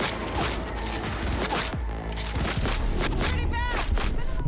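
Gunfire from close-range combat in Cyberpunk 2077, a video game, comes as dense bursts and fusillades mixed with mechanical clatter and booms, under excited talk throughout.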